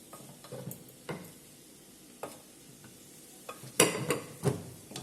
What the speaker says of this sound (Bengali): কত সুন্দর ইজিলি নাড়ানো যাচ্ছে তেল ছাড়া